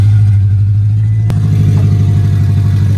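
A Toyota Tacoma pickup truck with its catalytic converter stolen starts and runs with a loud, raw, unmuffled engine drone, steady and close throughout with a brief sharp clatter early on.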